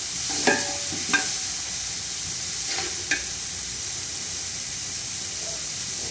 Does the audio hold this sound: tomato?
yes